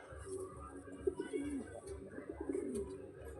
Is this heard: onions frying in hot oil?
no